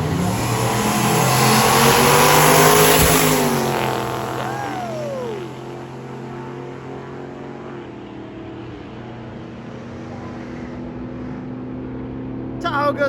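A turbocharged Chevy Tahoe launches at a Mid-Michigan heads-up drag race, its engine roaring loud and close, rising and then holding a steady drone as it pulls away, with turbo whistle and an announcer talking over it.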